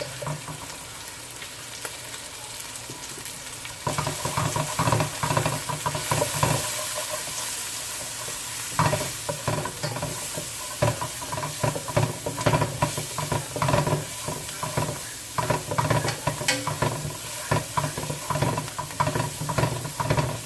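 Curry chickpeas sizzle in a pot as a tablespoon of turmeric is added, a continuous loud frying hiss that grows denser partway through, with stirring scrapes and crackles throughout.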